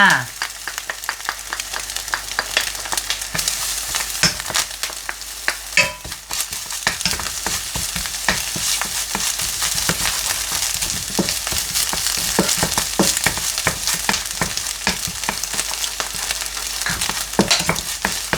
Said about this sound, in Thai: ผัดกระเทียมเลยให้สมกลิ่นหอมนะคะ